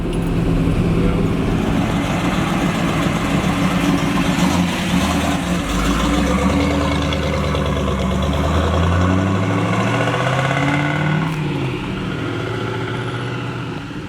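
A 1969 Camaro Z28 with its DZ 302 V8 rumbles steadily through the exhaust, the engine note rising and falling as it drives past, fairly loud and continuous with some road noise mixed in.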